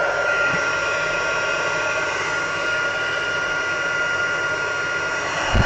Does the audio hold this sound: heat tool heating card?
yes